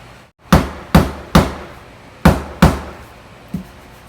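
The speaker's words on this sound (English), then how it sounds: "I'm going to hit that down with a hammer." A hammer knocks down a high spot on a kitchen splashback tile sheet: five sharp, close blows in an uneven rhythm, followed by a softer sixth tap.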